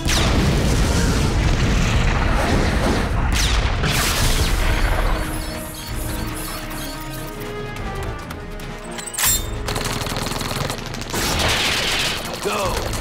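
An island explodes in the cartoon Batman: The Brave and the Bold with a loud, sustained rumbling boom that dominates the first few seconds, then gives way to lower rumbling and scattered clattering bursts.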